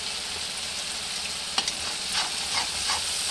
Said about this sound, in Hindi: मैं मसाले को अच्छे से भूनूंगी